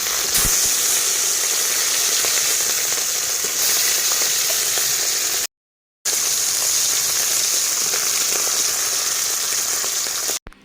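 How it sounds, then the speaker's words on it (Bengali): Hilsa fish pieces fry in oil, giving a loud, constant hissing sizzle that cuts out briefly partway through and then resumes. "এখন এখান দিয়ে মাছগুলো ভাজা হতে হতে"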